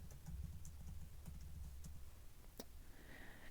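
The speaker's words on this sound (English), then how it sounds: "it's asking me for my sudo password, so I'm going to type that in" Quiet, brisk keystrokes tap out a sudo password on a Mac computer keyboard, a steady patter of light clicks in a hushed room with no voices.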